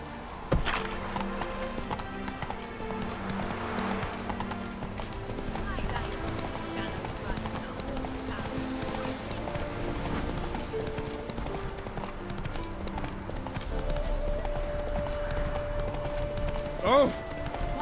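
The horse Roach from The Witcher 3 gallops with a brisk, continuous clip-clop of hooves, mixed under game voices and background music, with only a hint of a neigh.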